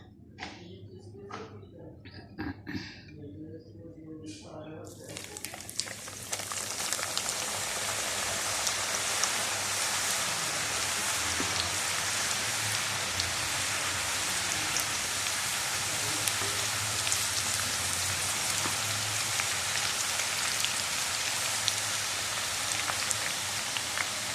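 Leftover samosa pastry strips sizzle in hot oil, a steady dense crackling hiss that starts abruptly after a few quiet seconds of faint clinks and holds loud and even to the end.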